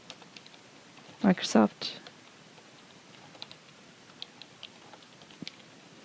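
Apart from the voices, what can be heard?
typing on a computer keyboard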